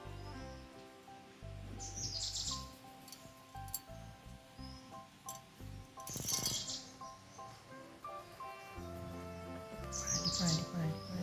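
A crow calls around a village home in short, faint, scattered cries over a quiet background with some rattling.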